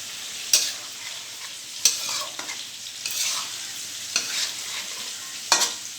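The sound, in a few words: stirring ghee-boiled potatoes for vegetarian biryani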